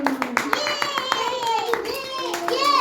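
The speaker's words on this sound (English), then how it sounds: "Clapping." Children clap in a loose rhythm of separate sharp claps while a voice talks and sings along at the same time.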